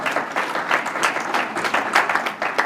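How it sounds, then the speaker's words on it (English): Dense applause from a presentation audience, a steady wash of many hands clapping at close range, sustained through the whole moment without talk. "Can I have a better round of applause for you?"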